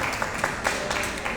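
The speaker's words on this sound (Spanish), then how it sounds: "un aplauso, por favor" Applause from the audience at a book launch for a pottery-themed museum book, a steady wash of hand clapping that fills the short moment at moderate volume with no voices.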